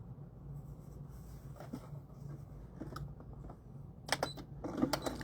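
Close and faint, a sewing machine stitches fabric for a doll in short bursts of light rapid ticking over a low hum, with sharper clicks near the end.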